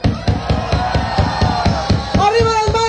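Zombie walk crowd at an outdoor event in Mérida chanting and shouting in rhythmic unison, loud and close, with regular pulsing beats and a sustained yell rising near the end.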